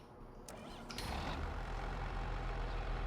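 Tractor engine in Farming Simulator 25 starting up with a couple of clicks, then settling into a steady low rumbling idle that grows slightly louder and holds, close and continuous.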